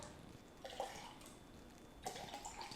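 Water is poured into cups for a pH test in two short bursts, a faint splashing pour, a pause, then a second pour, with no talking over it.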